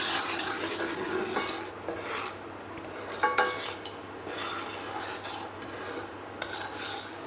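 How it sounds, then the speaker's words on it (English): A spoon stirring a tomato mixture with balsamic vinegar and sugar in a pan, close scraping and rubbing strokes over a soft background hiss, with a few clinks against the pot. "Just give that a stir, and we just need to gently dissolve the sugar"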